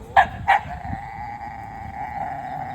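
A dog reacts to an unfamiliar dog with two quick, sharp barks close by, then a thin, drawn-out whine that carries on steadily afterward.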